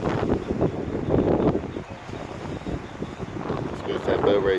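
Steady wind roars and buffets a microphone on a choppy day at sea off Spanish Point in Bermuda, a constant rushing blast that swells and dips without a break.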